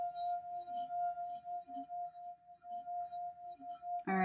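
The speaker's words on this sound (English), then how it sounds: "eventually it won't really vibrate because the water will be holding the glass still." A water-filled drinking glass played as a musical instrument gives off a steady, pure ringing tone that swells in gentle pulses. A brighter clink sounds at the very end.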